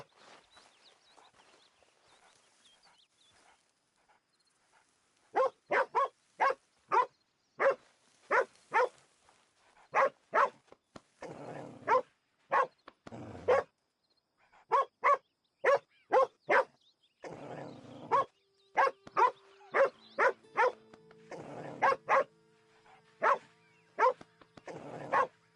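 A dog in the video game Red Dead Redemption 2 barks in sharp, repeated bursts, some in quick clusters, with short whimpering tones and footsteps mixed in near the end; no one talks over it.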